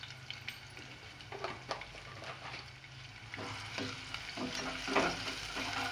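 White cumin seeds dropped into hot oil with onions in a home kitchen for chana dal, a steady busy sizzle with crackling pops and occasional stirring scrapes, close up and without talk.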